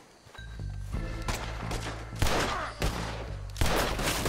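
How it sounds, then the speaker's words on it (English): Gunfights in Red Dead Redemption 2 crack out as several loud, close bursts of rapid shots over a low rumbling bed, with short gaps between volleys. "I'll riddle you with bullets!"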